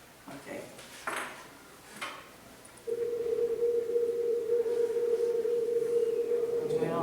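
An earthquake alarm sounds as a steady, loud single-pitch electronic tone that begins midway and holds continuously, after several short spoken exclamations.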